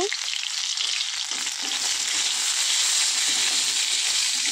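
Crushed ginger and whole cumin seeds frying in hot oil in a wok (kadai) give a loud, close, steady sizzle and crackle that holds evenly throughout, with no talking.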